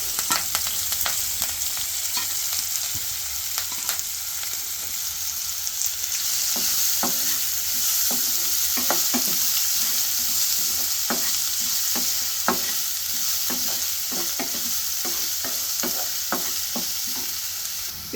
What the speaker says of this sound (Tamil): எல்லாமே நல்லா பொரிஞ்ச உடனே வெங்காயம் போட்டுக்கோங்க. ஒரு பச்சை மிளகா, கருவேப்பிலை எல்லாத்தையும் அப்படியே போட்டுக்கலாம்.